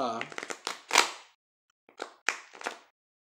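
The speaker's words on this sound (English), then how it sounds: "they shuffle fine." English Magic Tarot cards with colour-coded, bordered faces being shuffled up close, a run of crisp riffling snaps and slaps in two bursts separated by a short pause, with a voice speaking at the start.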